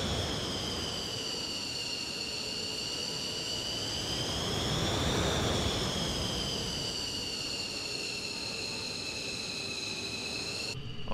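F-15C jet engines in a flight simulator, taxiing at Aviano Airbase, give a steady, loud whine with high tones and a broad roar underneath that swells slightly midway and holds to the end, with no talking.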